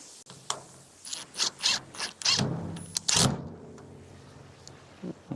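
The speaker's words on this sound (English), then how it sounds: "Just a matter of fitting that on, screwing that down to the gate." Screws are driven to fasten an attachment onto a garden gate, producing irregular ratcheting clicks, creaks and scraping bursts close by, followed by a quieter pause with a few soft taps.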